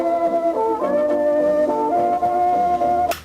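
An EQ'd music sample loops in FL Studio, a softer melodic phrase of sustained notes changing pitch every second or so, steady and close, ending in a brief bright burst.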